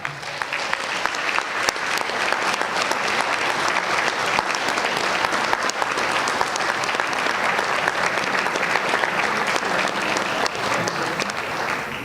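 An audience at a school district board meeting applauds with steady, dense clapping that stays loud and even for about twelve seconds.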